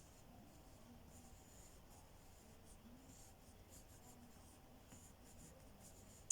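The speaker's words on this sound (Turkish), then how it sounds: "Kara kalemle bastırmadan yerini belirledim. Yerini çizdim." A charcoal pencil scratches lightly across paper, sketching the outline of a chandelier for a one-point perspective interior drawing, a quiet continuous rasp of small strokes that ends in a sharper tap.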